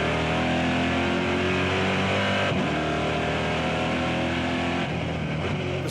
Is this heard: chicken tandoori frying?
no